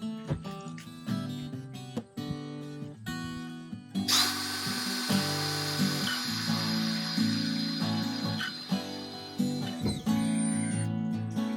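A power drill whines steadily and grinds through a roof, its pitch shifting as the bit bites, loud and close with no talking.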